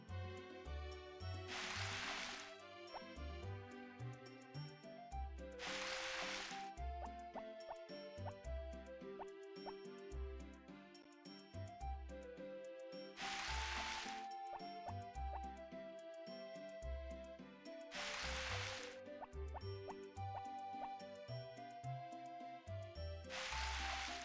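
Watering in the farming game Harvest Moon Back to Nature: four short, bright splashing bursts spaced a few seconds apart, heard over steady, upbeat background game music.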